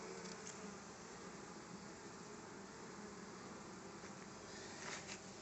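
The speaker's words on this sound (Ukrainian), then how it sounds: "бачите, наскільки спокійні бджоли в таку пору" A steady, soft buzzing of many calm bees at an apiary hive, continuous and even, with no voices and little change in loudness.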